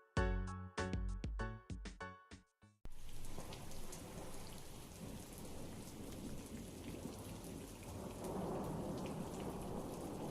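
A rainstorm with thunder: steady heavy rain and low rumbling roll on after a short musical intro, continuous and fairly loud with no talking.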